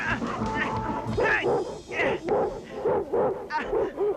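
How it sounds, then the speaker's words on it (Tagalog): A Doberman barks repeatedly in deep, rhythmic woofs close by, with a person's voice heard briefly before the barking. "Hindi, Doberman ho yun."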